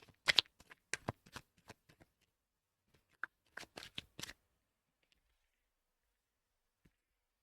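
Oracle cards being shuffled by hand, a few quick riffling bursts separated by short pauses, close and crisp in an otherwise quiet room.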